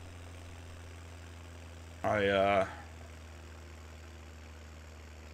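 A tractor engine idles steadily in a farming simulation game, a low constant drone running throughout, briefly overlaid by a short spoken word.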